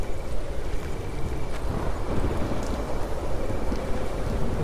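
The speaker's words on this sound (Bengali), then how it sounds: "হঠাৎ উঠল হাওয়া, সেই সঙ্গে বৃষ্টি।" Wind and rain sweep through a night-time jungle scene as a steady, dense roar of gusts and falling rain, loud and continuous with no voices.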